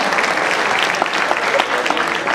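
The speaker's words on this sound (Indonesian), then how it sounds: "kita berikan tepuk tangan yang meriah" Lively applause from the audience at a 2012 Jakarta gubernatorial candidates' health program debate, a loud, dense wash of clapping that holds steady throughout.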